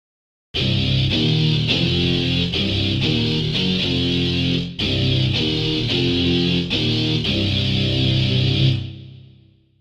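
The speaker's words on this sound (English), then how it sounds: "Here's an electric guitar." Electric guitar strums thick, distorted chords in a loud, continuous rhythm, with a brief break midway before the final chord rings out and fades.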